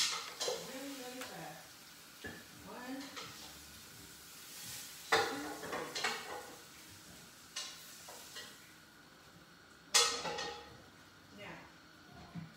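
Cooked short ribs are moved into a crock pot with a few scattered clinks and clatters of utensils against cookware. A person talks quietly between the knocks.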